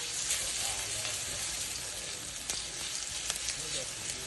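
Garlic frying in a pan until golden brown, a steady, close, broadband sizzle that holds evenly throughout, with a couple of faint scrapes or taps on top and no talk.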